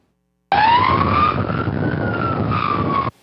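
A fire engine siren blares loudly, starting abruptly and sweeping slowly up then down in pitch for about two and a half seconds before cutting off.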